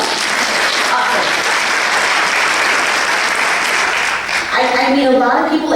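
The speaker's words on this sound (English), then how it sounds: "Give them a round of applause." An audience at a business gathering gives a round of applause, a steady, loud patter of many hands for several seconds, with a voice starting to speak over the tail end.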